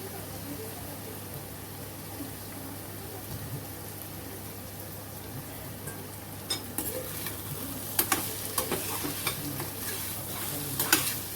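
Ivy gourd chutney with grated coconut, crushed peanuts and coriander powder being stirred in a pan, a steady soft sizzle with scraping stir strokes growing busier toward the end.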